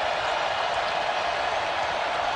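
A college basketball crowd at an Arkansas home game roars after a made shot, a steady, dense wash of cheering and clapping that fills the arena without letup.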